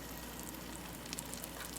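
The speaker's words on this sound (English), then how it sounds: "so now I can hear it sizzle a bit" Grilled cheese sandwich sizzling steadily in a frying pan, a soft continuous crackle and hiss with faint scattered pops, quiet and close, no talking.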